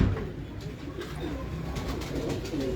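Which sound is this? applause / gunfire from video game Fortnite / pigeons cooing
pigeons cooing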